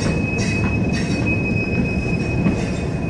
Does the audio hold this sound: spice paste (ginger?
no